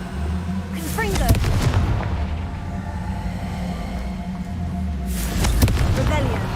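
Confringo fire spell in Hogwarts Legacy, two loud blasting bursts about four seconds apart over a low, steady rumbling game backdrop.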